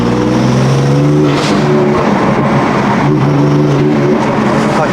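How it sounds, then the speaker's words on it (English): A BMW M4 engine runs loud and close with a steady droning exhaust note, and faint burbles and crackles appear during the revs. "I just want to play around at the burbles of this car"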